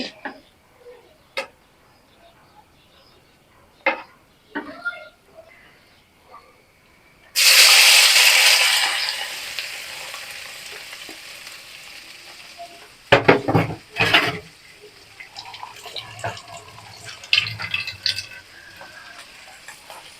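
Salted bele fish drops into hot mustard oil in a pan and bursts into loud sizzling, which settles into steady frying broken by clattering stirring and utensil knocks, with a few light taps beforehand.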